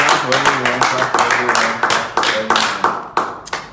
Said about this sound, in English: Everyone, please clap for everyone.